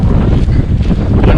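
Wind blows hard across the Wairau River, a loud, steady rush buffeting the microphone throughout with no breaks and no voices.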